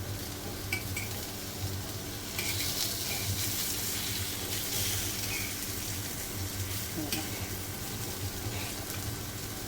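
Spicy potato slices roasting in a pan, flipped partway: a steady broadband sizzle with soft scraping and stirring clatter from the utensil, close and continuous for the whole stretch.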